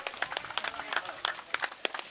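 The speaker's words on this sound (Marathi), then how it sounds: "या लोकांसाठी एकदा जोरदार टाळ्या वाजवायला हव्यात." Scattered audience clapping at a cricket prize distribution for the Daman Cup 2025, a thin, uneven patter of hands from a small crowd, fairly close, with someone speaking over it.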